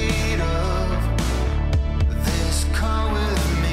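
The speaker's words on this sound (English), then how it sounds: "When you put a compressor across the whole mix and you get a sucking sound from it" A full music mix squeezed by a bus compressor pumps and sucks as the kick drum drives gain reduction, the whole track dipping and swelling rhythmically on each beat, loud and dense throughout.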